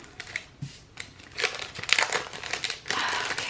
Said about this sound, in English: for the washi, I am going to go into the foil bundle